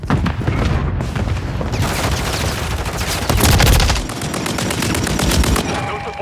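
Gunfire in the video game Call of Duty MW3 crackles in loud, rapid automatic bursts with heavier booms mixed in, dense and continuous with brief swells of intensity, and game voice lines come through in places.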